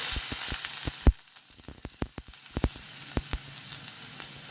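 Onions fry in oil in a kadhai on a gas stove, giving a soft, steady sizzle broken by scattered sharp crackles and pops, heard close up with no talk.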